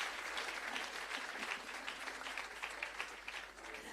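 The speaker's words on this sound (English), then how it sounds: "will we give the recipients a thunderous round of applause, please?" Audience applause for long-service award recipients at a Jamaica Civil Service awards ceremony: dense, steady clapping from many hands that holds at an even level throughout, with no voices over it.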